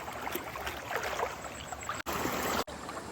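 Strong floodwater rushing knee-deep through flooded fields after a cloudburst, a steady broadband wash close by that keeps up throughout, with two brief dropouts.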